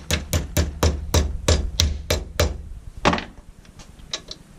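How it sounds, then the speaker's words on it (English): Hammer blows strike a washer clamped tight in a vise, about nine sharp metallic hits in a quick even rhythm, close and loud, followed by a few lighter taps. "Take a hammer."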